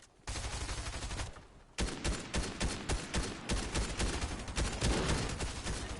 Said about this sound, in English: Oh, somebody's shooting at us.